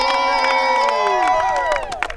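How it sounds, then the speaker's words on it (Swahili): A church congregation claps and ululates in loud praise of Jesus, a dense crowd of shrill trilling cries and cheering over steady clapping that holds strong and then thins toward the end. "Mshangilie Yesu kwa makofi na vigeregele"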